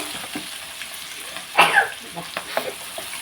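Thinly sliced onion pieces drop into a pan with oil and green chilies, giving a soft sizzle with a brief louder crackle burst and a few light stirring scrapes, alongside a voice.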